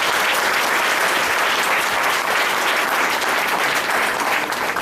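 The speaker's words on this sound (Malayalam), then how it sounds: "അവർക്ക് എല്ലാവരും ഒരു നല്ല കയ്യടി നൽകുകയാണ്" Dense, loud audience applause at a school drama performance, continuous and even throughout with many hands clapping together.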